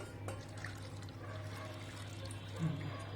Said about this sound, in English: The next is to add 200 ml of water.